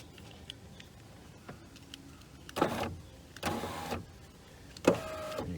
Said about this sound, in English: you can see the window moves on those 2 metal sliders